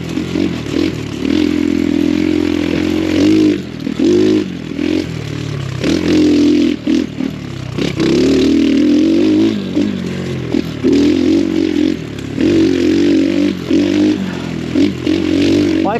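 X Pro Storm 150 DLX dual sport motorcycle with a small carbureted 150 engine riding a rough trail, a loud buzzing engine drone rising and falling with throttle, mixed with rattles and jolts from bumpy ground.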